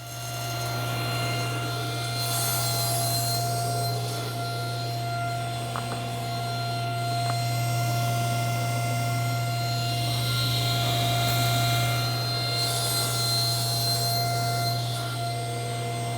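A power saw cuts wooden blocks for a jewelry box, a steady whining drone close by that holds for the whole stretch with slight swells in pitch and load as the blade passes through the wood.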